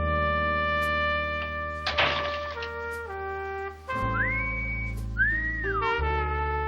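A person whistles a few sliding, rising and falling notes over a sustained musical backdrop, clear and close.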